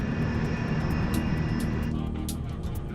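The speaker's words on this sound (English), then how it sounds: "a United States Air Force cargo plane is coming in for a landing" A United States Air Force cargo jet approaches to land, giving a steady, loud engine roar with a droning hum that eases slightly toward the end, while faint clicks sound through it.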